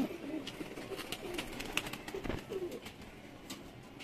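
Pigeons at a Lahore loft coo softly and intermittently, several low murmuring calls scattered over a steady outdoor hiss and faint background activity, distant and quiet.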